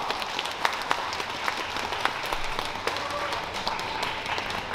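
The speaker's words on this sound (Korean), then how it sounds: "여러분 아낌없는 박수로 청해주시면 감사하겠습니다." Audience applause at a Korean traditional music (gugak) concert, a steady continuous patter of many hands at moderate volume throughout, with sharper individual claps standing out.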